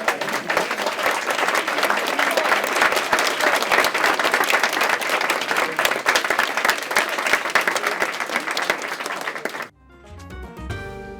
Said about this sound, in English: Give yourselves and them a round of applause.